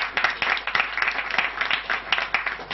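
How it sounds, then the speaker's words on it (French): An audience at a medical donation ceremony for a hospital in Douala applauds steadily, a dense, even wash of many hands clapping close by, with no voices over it. "j'aimerais que vous applaudissiez également."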